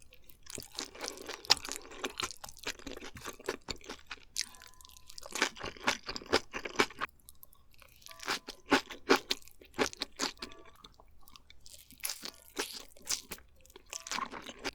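Close, repeated crunching and chewing while eating a seasoned, torched beef large-intestine rice bowl, bursts of wet bites coming in irregular clusters with short pauses between.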